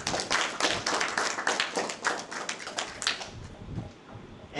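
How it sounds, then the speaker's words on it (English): An audience at a talk on loving kindness claps briefly, a dense patter of hand claps that thins out and stops after a few seconds. "Give him a clap."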